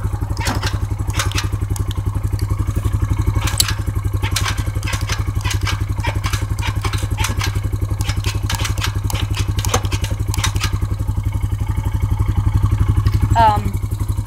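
A vehicle engine idles loudly up close with a steady low throb, while electric gears shift up and down in clicks and clatters over the top, and a brief whining glide comes near the end.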